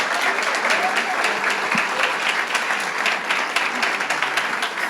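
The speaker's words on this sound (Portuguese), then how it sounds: "E aqui nós vamos aplaudir o Senhor pela sua vida" A church congregation applauds at a leaders' school graduation ceremony, sustained dense clapping from a crowd with a voice speaking over it.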